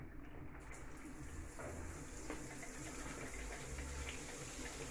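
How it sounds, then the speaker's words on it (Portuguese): Water is switched on from a tap into a shower, giving a steady, even rushing hiss that runs continuously from start to finish at low level. "agora sim, vamos ligar a água"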